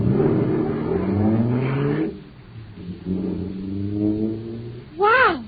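A supercharged cartoon jet car starts and revs, a rising, wavering engine whine under background music that swells loudly near the end.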